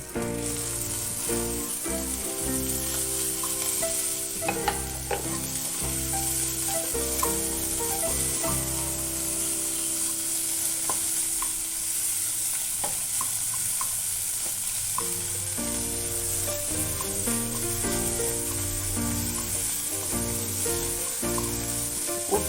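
A spinach stuffing for stuffed pakora is mixed by hand with salt, a steady, even scraping and stirring that runs alone for the whole stretch.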